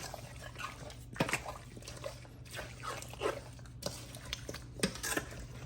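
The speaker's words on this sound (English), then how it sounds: "today I'm going to just use a spoon and I'm going to rub it in" A metal spoon scrapes and clinks against a bowl while rubbing seasoning into raw pork chops, with repeated soft scraping strokes and light taps close by.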